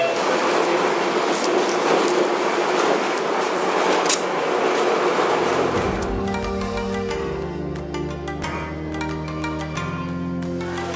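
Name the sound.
tram number 1 arriving at a stop in Irkutsk, Russia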